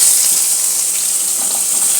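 Pumpkin, potato and stalks slid into hot oil flavored with asafoetida and cumin, giving a loud, dense, steady hiss of frying that holds without a break.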